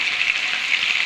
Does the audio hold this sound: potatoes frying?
yes